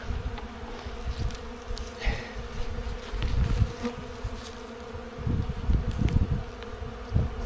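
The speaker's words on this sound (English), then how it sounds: "Bees are nice and calm." Honeybees buzzing during a hive inspection, with a dense, close drone of many wings swelling and fading in bursts, joined by occasional light handling knocks and no talking.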